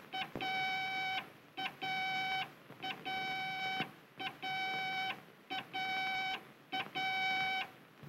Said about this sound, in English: If I go to the left of my course, I hear a series of dot dashes like this.